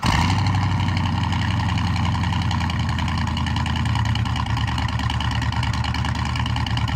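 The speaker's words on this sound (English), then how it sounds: "Number 1, 1970 Plymouth Hemi Cuda." A 1970 Plymouth Hemi Cuda muscle car idles steadily, its deep loping V8 rumble loud and close with a lumpy rhythm, running alone without any voices.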